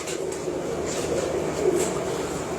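Pigeons from Faisal Kumhaar's Lala Musa breeding loft coo softly and steadily over a constant background murmur, with no speech heard.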